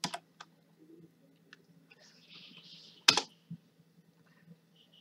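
Typing on a computer keyboard: a few scattered, quiet clicks with irregular spacing, including one sharper burst near the middle, over a low steady hum.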